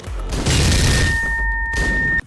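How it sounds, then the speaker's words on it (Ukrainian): A bomb blast in Hotline Miami 2 booms loudly with a dense, rumbling burst lasting about two seconds, a thin electronic tone ringing over it before it cuts off abruptly. "А щодо фішки, тут на кожному етажі є бомба з тим самим звуком"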